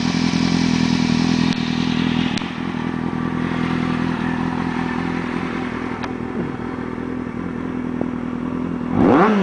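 A 2005 Kawasaki ZX6-RR sport bike with a new battery runs close by at a steady idle with a few clattering mechanical knocks, then revs sharply near the end.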